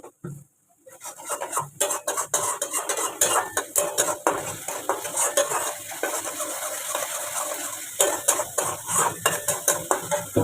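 A spoon stirring and scraping spice masala with turmeric in a metal pan, sharp clinks and scrapes in an irregular, busy rhythm, close and loud, with a brief silence at the start.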